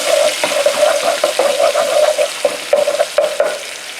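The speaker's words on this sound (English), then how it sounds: "about a teaspoon of chili paste. Stir this around" A teaspoon of chili paste fries in a pan for Balinese pork satay and is stirred. A loud, close sizzle runs throughout, broken by scraping strokes and a couple of sharp utensil taps.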